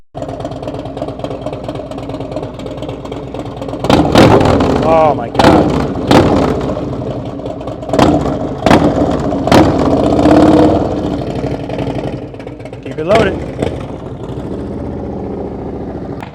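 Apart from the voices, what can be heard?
motorcycle with TAB Performance Redline 2-into-1 exhaust revving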